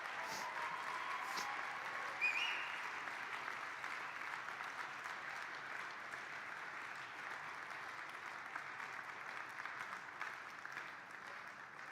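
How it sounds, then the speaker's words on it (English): An audience at a Welsh community event gives sustained, even applause that continues for the whole stretch at a moderate distance, with no voices standing out. "you can clap them if you want."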